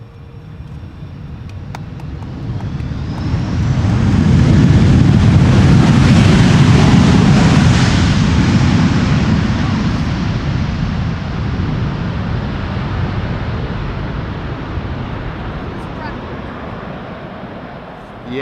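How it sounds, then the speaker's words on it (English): A Delta Airbus A330 lands on Schiphol's Polderbaan runway with its thrust reversers deployed. A broad, loud roar swells over several seconds, holds, then slowly fades into a steady rumble. "Yes, finally a little bit of reverser action and a wheelie to boot."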